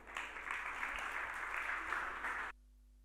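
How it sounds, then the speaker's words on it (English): Warm applause from a business conference audience welcoming panel speakers, a steady crowd clapping that stops abruptly, leaving near silence. "Please give them a warm round of applause."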